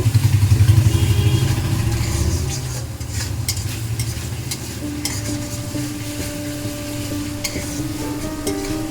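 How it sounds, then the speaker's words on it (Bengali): Spices for a light fish curry stir and fry in a pan, giving a steady close sizzle with scraping clatter from the spoon. No one speaks. "আবারও আমি এটাকে মিশিয়ে নেব।"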